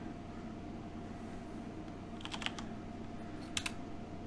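A character name is typed on a computer keyboard in two short bursts of quick, light key clicks, close and faint over a low steady hum, and no one speaks.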